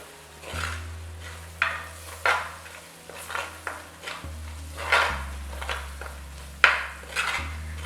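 About three tablespoons of chili powder frying in oil in a pan for a tuna fish head curry. A steady low sizzle runs under repeated clinks and scrapes of a spoon stirring against the pot, with no one speaking.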